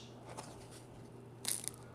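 Someone bites into a crunchy homemade pizza, a faint single crisp crunch near the middle over a low background hum, quiet and close with no talk.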